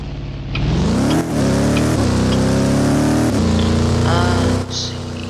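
A police car in an emergency-response video game reverses out of a spot, its engine droning steadily and rising in pitch, loud and close throughout.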